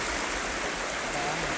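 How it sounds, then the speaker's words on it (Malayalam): A waterfall and a flowing stream, its water partly held back by piled-up waste, make a steady, even rush of water that is moderately faint and unbroken throughout. "ഞങ്ങൾ പോകുന്ന വഴിക്ക് വീണ്ടും ഒരു വെള്ളച്ചാട്ടം കണ്ടു കേട്ടോ"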